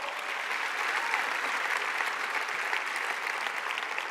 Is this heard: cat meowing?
no